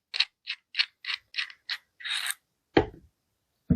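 An adjustable rivet nut drill tool is loosened by hand: a quick run of six sharp ratcheting clicks, then a longer metallic scrape and one heavier clunk, close up with no talking.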